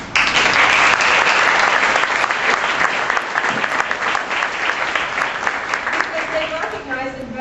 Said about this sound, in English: These 2 public servants deserve your applause.